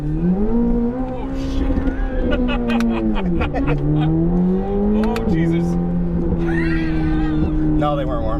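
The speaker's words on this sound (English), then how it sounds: "we hit the rev limiter" A high-performance sports car engine revving hard to its rev limiter, a loud droning engine note that rises, dips and climbs again before holding high, with brief voices heard over it inside the car.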